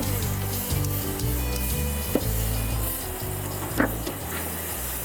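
Grass-fed steak basted with a marinade sauce sears on a hot surface, a steady close sizzle with a couple of brief scraping knocks and no talking.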